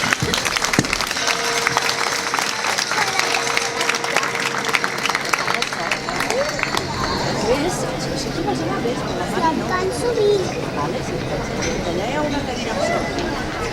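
Audience applause for young dancers after a jota de los mantones performance at an Aragonese cultural centre's Pilar festival, a dense steady clatter of clapping from a crowd with chatter and voices mixed in throughout.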